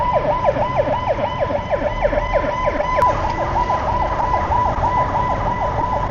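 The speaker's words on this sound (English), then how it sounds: "Ambulance coming by." An ambulance siren wails continuously with a rapid rising yelp pattern, loud and close, over the rumble of night traffic on a Saigon street.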